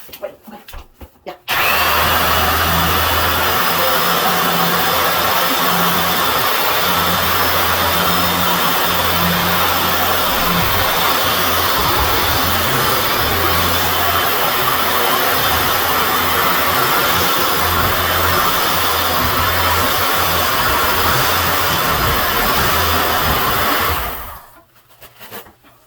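A Dual Cyclo polisher runs loud and steady for about twenty-two seconds, buffing shower walls with a microfiber cloth. Its constant whirring hum starts abruptly and cuts off near the end.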